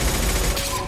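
Rapid gunfire from a firefight in the video game Mass Effect 2, dense and loud, a continuous burst of overlapping shots throughout the brief moment.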